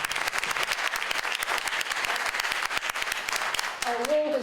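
An audience at a 2019 Dutchess County candidates forum applauds after a candidate's opening speech, with crisp close clapping from many hands, steady and moderately loud, and a voice starting to speak near the end.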